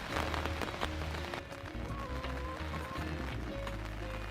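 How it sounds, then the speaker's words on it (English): Rain and gusting wind outdoors by a chicken coop, a steady soft patter and rushing hiss with low buffeting, fairly faint and continuous throughout. "It's too windy and rainy out here for you guys."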